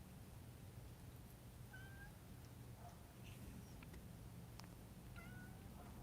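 A cat meows a few times at a distance, short faint calls over steady background noise, with a brief murmur from a person.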